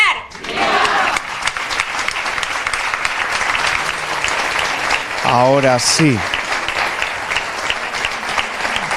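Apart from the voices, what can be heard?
audience applause for the Virgen del Pilar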